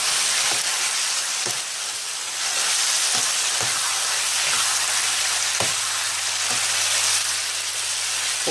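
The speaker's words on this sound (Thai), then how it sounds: "ใบกะเพราลงไป ครับแล้วก็ผัดต่อนะครับผัดให้ผัดสุกนะครับ" Spaghetti stir-fried with holy basil and mushrooms sizzles steadily in a hot pan, with a spatula tapping and scraping at irregular intervals and no talking.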